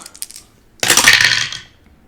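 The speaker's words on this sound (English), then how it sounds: "I'm going to roll my 3 blue dice" Three small blue dice tumble onto a tabletop in a single loud clattering burst lasting under a second, with a few faint taps just before and quick fade after.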